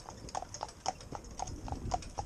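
A cob's hooves clip-clop in a steady walking rhythm while pulling a driven carriage, each footfall crisp but fairly faint against a soft outdoor background.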